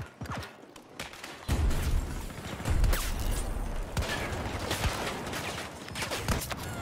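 Masterkey underbarrel shotgun blasts in a video game: several sharp booming shots spaced a second or more apart, fairly quiet overall with a busy rumbling background between them.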